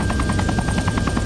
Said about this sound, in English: load this helicopter up with supplies so you can do a supply drop